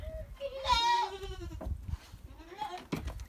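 Goats bleating inside a barn, several drawn-out wavering calls close by, with a voice talking quietly in between.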